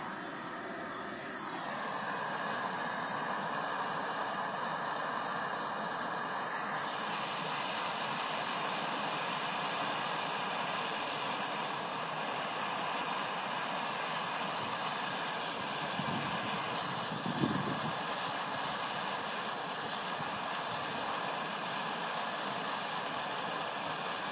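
A torch heating a thick steel spindle gives a steady, loud, roaring hiss that runs unbroken throughout, with a slight shift in tone early on and no talking.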